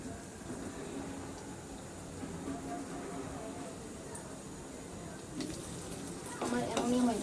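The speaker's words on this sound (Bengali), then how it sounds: "এখন এখানে আমি একটু আলুটা ভেজে নিতে হবে হালকা করে।" Potatoes fry lightly in a pan with a faint, continuous sizzle and occasional stirring scrapes, quiet and steady, growing a little busier at the end.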